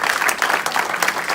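A church congregation at a Sunday service claps steadily together to acclaim the Lord, a dense, even applause sustained throughout without voices.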